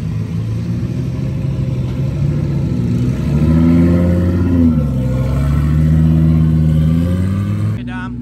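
A drag race car on its first test pass with a new setup at a DCT World Cup event, heard as a loud, close engine rumble that climbs in pitch and holds steady before cutting off near the end.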